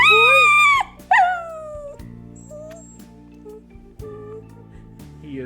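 A loud puppy lets out a high, drawn-out howling whine that breaks off and starts again, followed by quieter whimpers over a steady low game-music hum.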